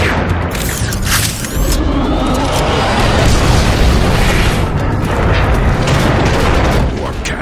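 Warp cannon explosions in the video game Transformers: Fall of Cybertron boom one after another, loud and rumbling, filling the scene with a continuous, thunderous roar and sharp blasts.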